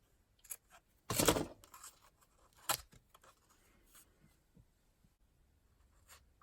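A piece of paper from a craft paper pad is torn by hand in one loud ripping burst, followed by a shorter tear and faint rustling and handling sounds close by.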